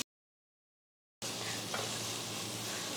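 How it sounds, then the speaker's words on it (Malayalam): Chopped chicken sautés in a pan on medium flame, a steady frying hiss beginning abruptly after a moment of silence and holding evenly, with no talk. "2 മിനിറ്റ് നേരം ഒന്ന് വഴറ്റി കൊടുക്കാം മീഡിയം ഫ്ലെയിമിൽ"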